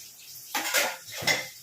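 Dishes being washed and scrubbed: metal pots and utensils clatter in two loud bursts over a quieter background, close and unaccompanied by talk.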